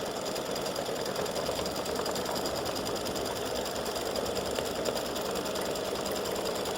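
Sewing machine stitching running stitches on horseshoe earrings, a steady, even mechanical whir and rapid needle chatter running unbroken throughout.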